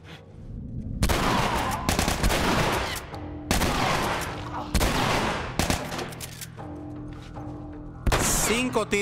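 Shotgun blasts ring out in The Last of Us Remastered on PS4: several loud, sharp shots spaced about a second apart, each with a short decaying tail, with game sounds between them.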